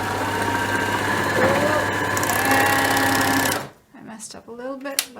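A serger overlocking the sleeve hole of an old t-shirt being upcycled, running as a loud close steady mechanical whir that stops abruptly partway, followed by a person talking.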